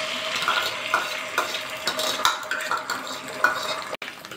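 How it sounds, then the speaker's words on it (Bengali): Beaten egg frying in hot oil in a kadai, stirred with a spatula, as part of a Bengali red amaranth greens dish: a steady close sizzle with repeated scraping strokes and light utensil clinks, and no talk. "যে ডিমটা ফাটিয়ে রেখেছিলাম সেই ডিমটা দিয়ে দেবো এবার গোলাটা"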